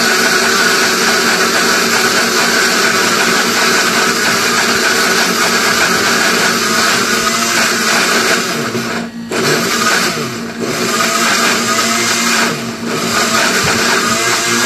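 A kitchen grinder churns ginger and garlic into paste with a loud, steady whirring drone that holds for the whole stretch, dipping briefly a few times as the load shifts.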